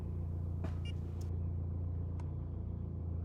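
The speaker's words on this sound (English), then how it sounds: "Let's fire the car up so it don't kill his battery off" A car engine idles after being started, a steady low rumble throughout with a few faint clicks and beeps over it, no talk.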